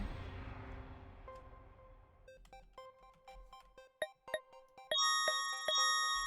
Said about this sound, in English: The bell is too loud to bear.